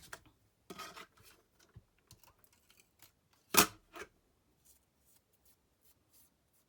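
Scissors snip off excess card paper during pop-up box card making, two quick, crisp cuts close by in an otherwise quiet room, with a few faint handling rustles.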